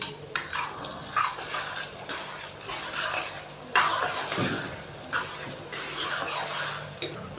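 A spoon stirs mashed dal with butter in a pan, producing rhythmic scraping strokes in bursts over a soft sizzle, close and fairly loud, with no voices.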